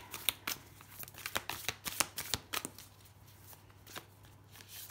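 Oracle cards being shuffled by hand, a run of quick papery riffles and slaps that is busy at first and then thins out, close and soft with no speech.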